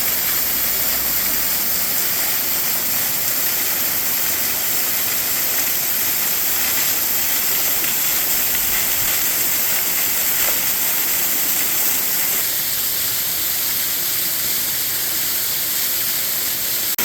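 A steady, roaring rush of water falling at Aqueduct Falls, heard close and unbroken throughout, with no voices.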